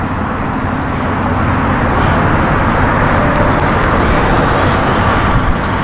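Steady, loud road traffic roar with cars passing continuously nearby, a dense wash of engine and tire noise that never lets up.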